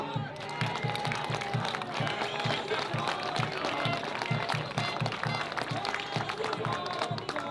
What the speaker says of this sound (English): So can we please have a round of applause for them?